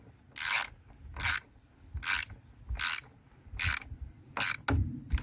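Ratchet tightening a battery terminal clamp on a 2018 Skoda Karoq, six rhythmic bursts of clicking ratchet strokes at close range, evenly spaced with brief quiet gaps.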